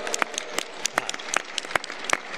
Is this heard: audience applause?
yes